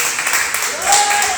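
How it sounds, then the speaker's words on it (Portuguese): A church congregation applauds in a dense, steady burst of clapping, with a voice rising over it near the end. "Uma salva de palmas para o Senhor Jesus."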